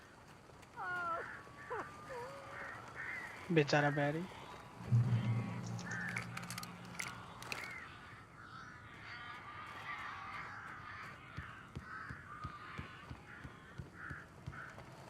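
Crows cawing in the video game Alan Wake Remastered: a few harsh calls around the middle, loud against a dark ambient bed, with people talking before and after.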